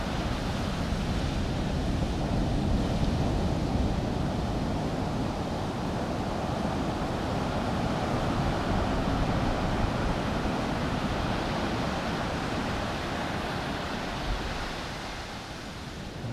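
Ocean surf breaks continuously along a beach on Australia's Great Ocean Road, a steady broad wash of waves with wind, fairly loud and unbroken throughout with no talking.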